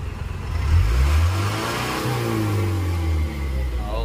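An Isuzu Elf 4HF1 diesel engine, idle for a year, catches and revs up loudly, with a rising roar and a steady low throb as it settles into a rough idle.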